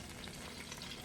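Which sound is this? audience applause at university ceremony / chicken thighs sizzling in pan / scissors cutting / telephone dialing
chicken thighs sizzling in pan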